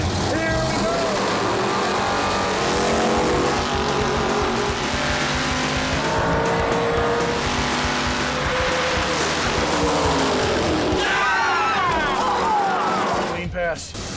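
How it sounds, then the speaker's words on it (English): A 1969 Plymouth Valiant drag races at full throttle, its engine howling loud and sustained with crowd noise and an announcer talking over it, ending in tire squeal. "We're running the car all out."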